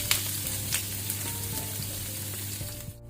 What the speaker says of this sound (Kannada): ಈರುಳ್ಳಿ ಒಳ್ಳೆ ಕೆಂಪಾಗೋ ತನಕ ನಾವು ಫ್ರೈ ಮಾಡಬೇಕು, ಕಲರ್ ಚೇಂಜ್ ಆಗಬೇಕು.